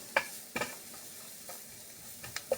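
Onions and garlic cook down in a pan with a faint, quiet sizzle, broken by a few sharp scrapes and taps of stirring, close by with no talking.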